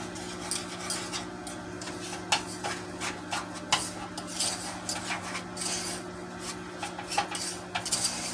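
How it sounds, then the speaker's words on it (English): Brown sugar is stirred into beef gravy in a pan, giving repeated metal scraping and clinking of a utensil against the cookware over a soft background hum, irregular strokes close by and no speech. "now I'm going to add 1 cup of brown sugar and stir that around"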